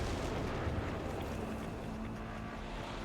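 An artillery cannon fires in a Company of Heroes 3 battle, heard as a continuous loud, rumbling boom and roar that fills the whole stretch without a break or a clear separate blast.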